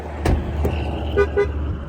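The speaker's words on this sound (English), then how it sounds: "It's honking at me because it's like, hey, I'm running and you got the keys." A car horn gives two short, close beeps in quick succession as a keys-left-inside warning while the vehicle runs, with a low engine rumble and a couple of knocks around it.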